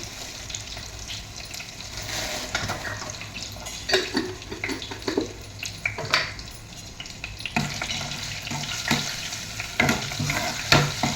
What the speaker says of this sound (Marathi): त्यामध्ये आता थोडीशी कसुरी मेथी टाकायची तेलामध्येच टाकायचे